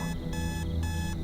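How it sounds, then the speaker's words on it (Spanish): A small alarm clock rings in rapid electronic bursts, about four on-off pulses of shrill beeping, close and steady, over a low humming background. "Una noche justo estaba terminando de cenar cuando sonó la alarma de un pequeño reloj."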